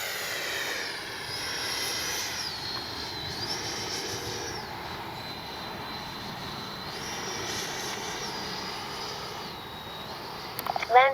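A Freewing T-45 90mm RC jet model during a speed trial, a steady high-pitched turbine whine that rises and falls in pitch as it passes and circles at a distance, fairly faint, without talk.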